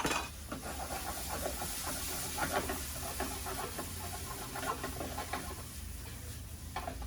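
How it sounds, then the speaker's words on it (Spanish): Sofrito sizzles in very hot lard for enchiladas tabasqueñas, a soft steady hiss and crackle with occasional stirring scrapes, fairly quiet and with no talk. "voy a agregar en una manteca muy caliente, y voy a dejar que empiece este sofrito a sazonarse"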